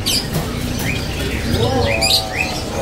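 Small birds, including F2 canaries, chirp and trill nearby in quick, bright bursts over a busy background hum, with a clear rising warble near the end.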